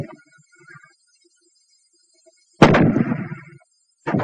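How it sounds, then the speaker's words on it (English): A World War II fragmentation grenade bursts with a sudden loud blast that decays over about a second, after near silence and a faint click, followed by the start of another loud report. "The fragmentation grenade."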